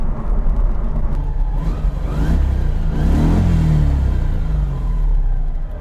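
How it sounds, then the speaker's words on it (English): A Subaru BRZ with a 1UZ engine swap revs freely, its pitch climbing and falling as the throttle is worked, loud and close throughout with a steady rumble underneath. "Free revving now, it holds steady, which is cool."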